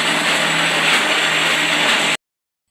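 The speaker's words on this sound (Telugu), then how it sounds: "ఇంకోటి మిక్సీలో వేసుకున్నాను" Mixer grinder blending jujube fruit, a loud steady high-pitched whirring motor that runs continuously for about two seconds and then cuts off abruptly into silence.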